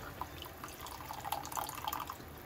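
Tamarind water being poured into a pot of spices for a roast, a faint continuous trickling, splashing pour lasting a couple of seconds.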